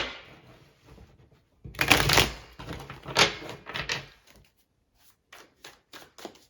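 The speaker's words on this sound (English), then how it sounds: "do one more shuffle." Tarot deck being shuffled by hand, bursts of riffling and card slaps in irregular clusters, close and fairly quiet, with no voices.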